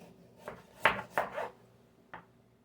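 Vegetables being chopped for homemade chicken soup, a few quiet knife strikes on a board, one clustered pair and a lone later chop, close by with no talk.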